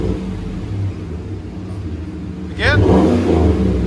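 A 2015 GMC Sierra Denali with a 6.2L LS V8 and Flowmaster Super 44 dual exhaust idles with a steady low rumble, then revs sharply about two-thirds through into a louder, sustained roar, close by.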